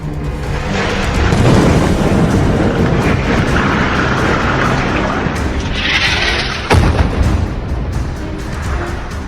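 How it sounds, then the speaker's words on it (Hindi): Serial bombing explosions in Manama, Kuwait City and Amman, heavy rumbling booms swelling and rolling on for several seconds with a sharper blast near the end, loud and dense, no voices. "मनामा, कुवैत सिटी और अम्मान में सीरियल बमबारी की तस्वीरें"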